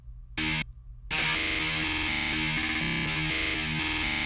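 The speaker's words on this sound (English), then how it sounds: "let's listen to the guitar" Distorted electric guitar run through a stutter effect in Ableton Live's Max for Live, chopped bursts and a gap before a dense, continuous repeating riff, loud and alone.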